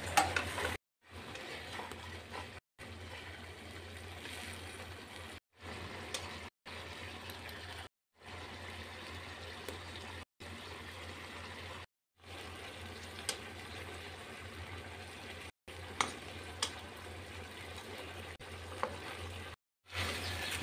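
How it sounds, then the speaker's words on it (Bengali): Fried katla fish pieces sautéing in a curd masala in a pan, giving a steady close sizzle with stirring, broken by several short silent gaps. "এখন দিয়ে দেব ভাজা মাছগুলো, দিয়ে আমি একটু কষিয়ে নেব।"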